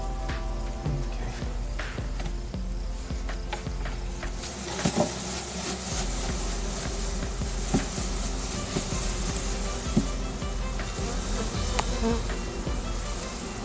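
Honeybees buzz continuously around a hive, a dense droning hum with individual bees whizzing past, close and steady throughout.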